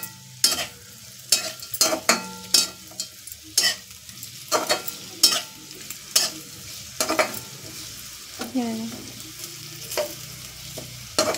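A fasting-day dish stir-fried in a pan gives sharp, irregular spatula scrapes and clinks over a low sizzle, close up, with short pauses between bursts of stirring and no one talking.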